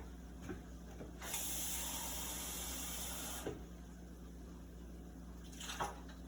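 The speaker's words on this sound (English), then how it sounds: "3/4 of a cup of water. Pour that in." Three quarters of a cup of water poured into taco meat in a pan, a steady hissing sizzle and splash lasting about two seconds, close and moderately loud, followed by faint clinks over a low background hum.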